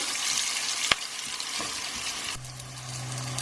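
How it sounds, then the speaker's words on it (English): Eggplant lightly frying in a pan for a vegan Indian baingan masala curry gives a steady soft sizzle, with one sharp click near the start and a low hum joining partway through. "We're going to lightly fry this for about 5 minutes till it changes color."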